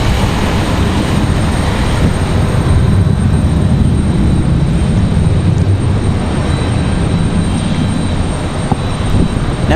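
An Alaska Airlines jet in Disneyland livery departs from Raleigh-Durham, its engines a loud, continuous, rumbling roar that holds steady throughout.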